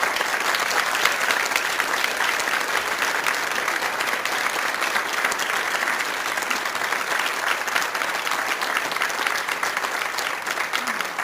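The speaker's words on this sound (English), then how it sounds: "well-deserved round of applause" A large audience at the 2023 New South Wales Australian of the Year Awards gives sustained, dense applause, loud and even throughout with a faint crowd murmur underneath.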